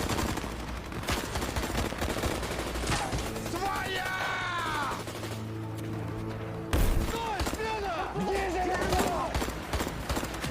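A film battle between rebels and Russian soldiers in the Central African Republic brings bursts of gunfire and rapid weapon fire amid mechanical clatter, with shouting voices and tense score mixed in.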